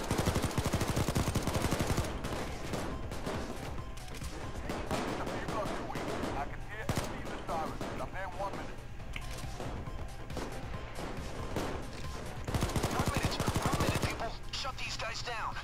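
A shotgun and an MP5 fire in the heist game Payday 2, with dense rapid bursts and heavy blasts crackling loudly throughout, under occasional speech.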